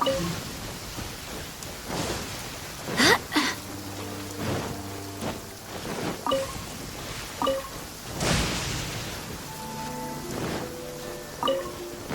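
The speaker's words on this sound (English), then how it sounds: "The rain won't slow me down." Rain in Genshin Impact's Inazuma hisses steadily in the background while louder whooshing bursts and short tonal game sounds come and go over it.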